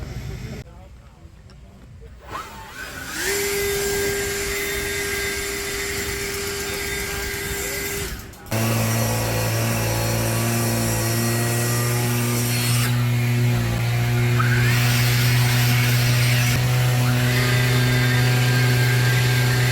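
An ECHO battery-powered trimmer whines up and holds a steady motor tone, then cuts out briefly before restarting at a lower, stronger pitch that runs continuously to the end.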